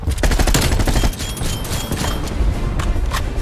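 Groza assault rifle fire in Black Ops Cold War, heard as dense, loud, rapid automatic bursts running almost continuously, with a few brief gaps between volleys and no talking over them.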